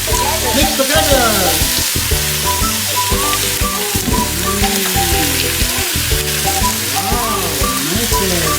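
Chicken tinola being stirred in a pan, with loud continuous sizzling and frying plus scraping stir strokes throughout, while people talk over it.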